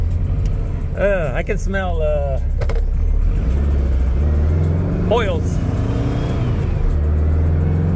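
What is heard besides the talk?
car engine revving while shifting gears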